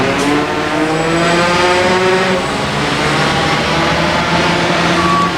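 The diesel engine of NASA's Crawler Transporter 2 at Kennedy Space Center starting up, a loud, steady, droning roar with a low harmonic hum that holds constant throughout.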